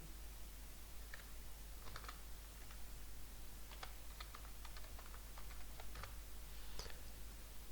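Keys clatter on a computer keyboard as an email address is typed in, with scattered, irregular clicks spread through the clip over a steady low hum and no talking.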